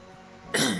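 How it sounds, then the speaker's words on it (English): A single sharp cough bursts out after a quiet moment, close and loud, trailing off quickly. "Sorry for my cough."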